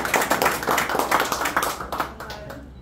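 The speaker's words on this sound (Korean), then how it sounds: "자, 다시 한번 큰 박수 한번 해주세요." Audience applause at a World Freestyle Football Federation event, a steady patter of clapping hands with speech mixed in, fading away toward the end.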